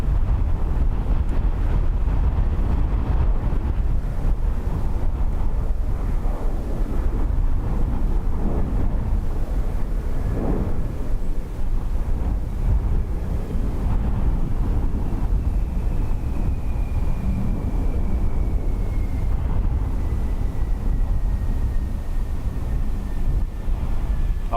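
Steady roaring wind buffets the microphone at Dublin Airport on a gusty crosswind day, a continuous broadband rush with a faint aircraft whine rising in the distance partway through; no talking.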